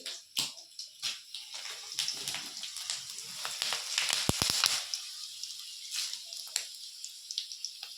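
Mustard seeds and three dried red chillies hit hot oil, giving a crisp spattering crackle with scattered pops, fairly close and moderately loud in uneven bursts.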